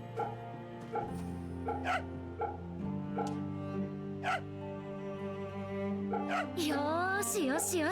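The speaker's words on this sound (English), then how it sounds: "There's a puppy here too." Puppy in the video game Fate/Samurai Remnant giving a few short whimpers and yips over steady game music, with a voice speaking briefly near the end.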